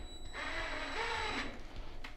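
Cordless drill with its clutch set, driving a fastener into a car door skin during sound-deadening work: a short whirring motor run with rising and falling pitch, up close and alone, ending after about a second.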